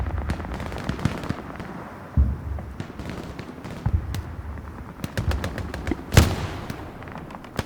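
Rocket explosions and gunfire in the WWII shooter game Hell Let Loose, a busy battle of sharp cracks and rattling bursts with one heavy blast standing out near the end.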